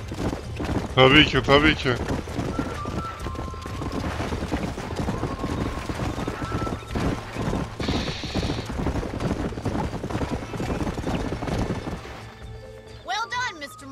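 Horse hooves clip-clop in the Western video game Red Dead Redemption, a steady trotting patter running beneath talking voices, with faint tack rattles and a brief tonal effect near the end.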